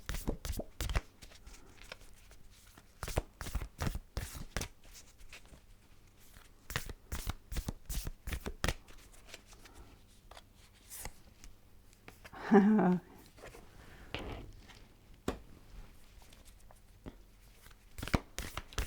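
Archetype cards are shuffled close by in a quiet room, producing irregular runs of sharp riffling clicks and soft slaps, with a brief louder rustle near the middle.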